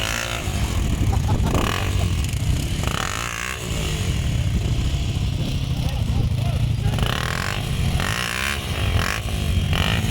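ATV engines rev and roar at an off-road jeep festival in Ordu, loud rising and falling engine bursts mixed with shouting spectators calling out throughout.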